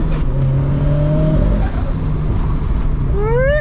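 Nissan Z drift car engine drones loudly from close by, its pitch rising in steady revs and then climbing sharply in a final burst of acceleration, with no one talking.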